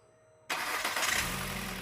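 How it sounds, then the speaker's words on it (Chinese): After a silent pause, a reassembled car engine, repaired for a clogged oil pump strainer, cranks and catches abruptly, then settles into a loud, steady idle close by. "车辆完美启动"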